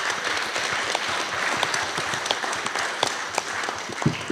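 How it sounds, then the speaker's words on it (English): An audience at a Summit on Democracy workshop applauds in a dense, continuous patter of many hands clapping, loud and sustained throughout. "How about a big round of applause for everybody?"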